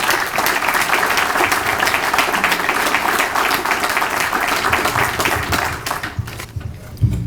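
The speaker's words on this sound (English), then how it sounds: "Give him a round of applause for that." A crowd gives a sustained round of applause for a retiring deputy chief with nearly 36 years of service at a police swearing-in and promotions ceremony. The clapping stays dense and loud for about six seconds before thinning out.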